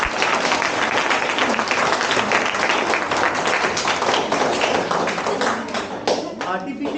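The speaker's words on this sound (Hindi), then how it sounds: "जोरदार तालियां सबके लिए" Vigorous, dense clapping from a group applauding students at an AI workshop, steady and close, fading toward the end as a voice begins speaking.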